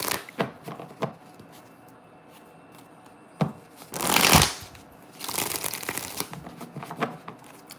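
Tarot cards being shuffled by hand: soft, quiet riffles and taps at first, then a louder burst of riffling near the middle and a longer rustling stretch toward the end.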